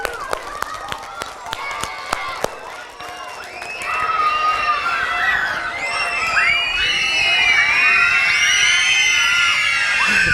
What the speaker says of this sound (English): Give him a round of applause. Give him a loud decibel clap.